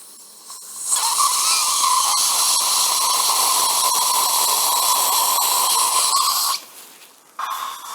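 A Dentis SQ dental implant drill enlarging the hole gives a steady, loud high-pitched whine that runs for several seconds, drops away briefly, then starts again.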